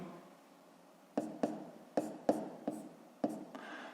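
A pen writes on paper in a math exercise, quiet scratching punctuated by about seven sharp taps and strokes, close and soft with no voices.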